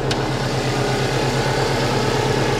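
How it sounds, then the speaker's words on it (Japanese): A Subaru Impreza GC8 with about 140,000 km and a never-overhauled engine idles steadily, a close, even low rumble with a regular pulsing throb and no voices. "オーバーホールされてるエンジン音とされてないエンジンの音の違い"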